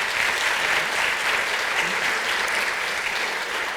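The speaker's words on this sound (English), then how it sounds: "I'd like to thank our panel and give them a round of applause" A panel discussion audience breaks into a round of applause, dense and loud, with sustained clapping throughout and no voices over it.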